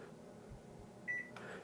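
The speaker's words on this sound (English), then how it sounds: "you hear the one beep, that means they're on" A single short electronic beep from a BioBidet Discovery DLS bidet seat, close and quiet, over a soft room hum, followed by a faint click.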